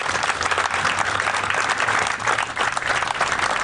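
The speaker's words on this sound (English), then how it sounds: "Please join me in a round of applause." A crowd applauds at an Army brigade color casing ceremony at Fort Campbell, steady mass clapping with a low hum underneath, continuous and fairly loud throughout.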